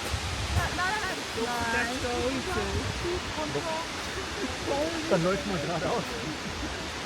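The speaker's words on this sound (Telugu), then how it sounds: "వాటర్ ఫాల్స్ మాత్రం బ్యూటిఫుల్గా ఉన్నాయి" Waterfalls near a hanging bridge in Germany's Black Forest rush in a steady broadband roar under nearby talking.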